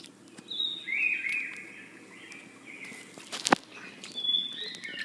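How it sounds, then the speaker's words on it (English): Hermit thrush song: fluting, whistled phrases rise and fade against quiet background hiss, with a sharp click partway through. "Thrushes are known for their different beautiful songs."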